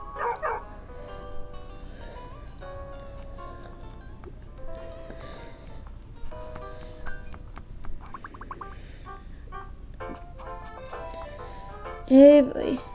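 Game dogs from Nintendogs + Cats bark and yip in short bursts over light electronic music and chimes, with one louder yelp near the end; a person talks to the dog between sounds.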